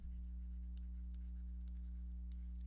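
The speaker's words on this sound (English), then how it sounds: "I'll just write that just to be clear" Chalk or marker writing on a board during a physics lecture, faint scratchy strokes in short irregular bursts over a steady low electrical hum.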